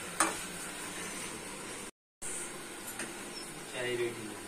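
Sugar cooks in a pan for tea with a soft, steady sizzle and occasional stirring scrapes, faint and close, broken by a brief silent gap.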